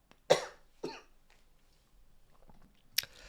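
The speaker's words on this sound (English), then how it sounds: "I can't stop coughing" A lingering post-cold cough: two sharp coughs close together, then a quieter pause with faint rustling and a final short cough, fairly close and with no speech.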